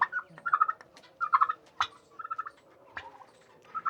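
A turkey on a poultry farm gobbles close by in several quick rattling bursts, with brief pauses and other fowl calls between them.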